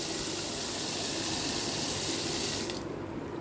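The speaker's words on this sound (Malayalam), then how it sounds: "ആവശ്യത്തിന് വെള്ളം ഒഴിക്കും" A steady rush of water pours continuously for a few seconds into a mixer grinder holding cashews and onion, then cuts off abruptly near the end.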